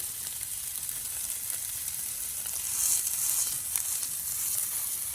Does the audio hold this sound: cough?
no